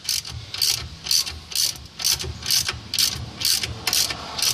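A ratchet wrench loosens the hub assembly bolts on a 2006 Chevrolet Uplander, sounding in a quick series of bursts of clicking that repeat at a regular pace, close and fairly loud.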